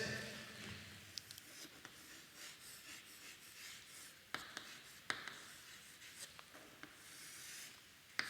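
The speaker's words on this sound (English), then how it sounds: "Solution we should write like this" A pen scratches across paper in short strokes and taps as a math solution is written out, quiet and close, with soft background hiss and no talking.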